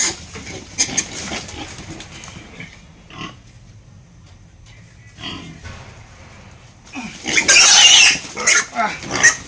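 Piglets on a pig farm grunt and oink as they are lifted and carried, with scattered snorts early on and a loud, piercing squeal near the end, while someone talks and strains in between.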